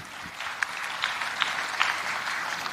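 An audience at a tech and innovation summit at KICC gives brief applause, moderately loud with a few sharper claps standing out over a steady patter.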